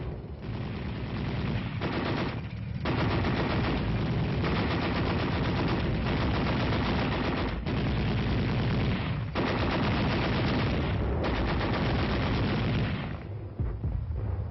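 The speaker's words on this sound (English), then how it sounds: "Upon receiving the enemy fire, Team Charlie is forced to deploy into line formation." Heavy gunfire rings out in a tank company night attack, with sustained bursts of machine-gun and rifle fire and booming shots, loud and nearly continuous with a few short gaps.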